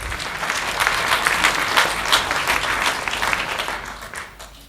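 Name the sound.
audience applause for the rapporteurs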